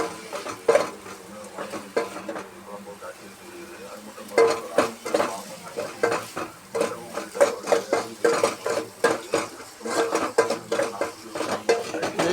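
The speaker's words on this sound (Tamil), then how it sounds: "பச்சை மிளகாய் எல்லாம் போட்டு நல்லா வதக்கி" Onion, tomato and green chilli being sautéed for sambar, with rhythmic scraping and clattering of a spoon against the pan in repeated bursts over a faint background sizzle.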